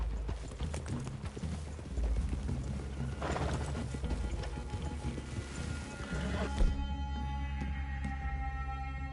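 Horses in Red Dead Redemption 2 clip-clop at a walk in a wooded clearing, steady hoofbeats close by with a snort and some gear rattling, then quieter ambience.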